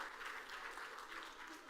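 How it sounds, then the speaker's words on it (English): A live audience at the SXSW 2023 food summit applauds a panel with a soft, even patter of clapping, quiet and uninterrupted for the whole moment. "Thank you again to the panel. Round of applause again, please."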